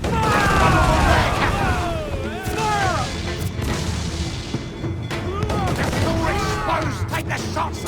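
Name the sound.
ship cannon fire in the Assassin's Creed 4 Black Flag video game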